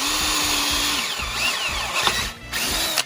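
A power drill bores a 1/4 inch hole while anchoring a rack, the motor whining in several short bursts with brief pauses between, close and loud.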